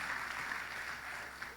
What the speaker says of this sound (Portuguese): Mais um aplauso ao Senhor